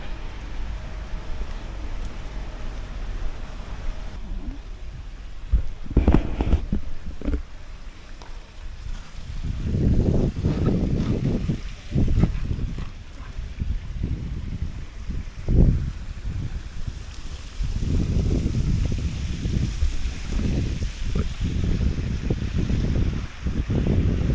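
Ocean waves wash ashore close by in Zanzibar, a boat nearby, heard as broad rolling surges and wind buffeting the microphone, louder bursts recurring through the second half with no talk.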